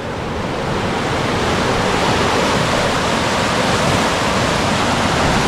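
Constant roaring surf, waves rushing and breaking against nearby rocks in a dense, unbroken wash of noise with no voices, on the coast at Masinloc, Zambales.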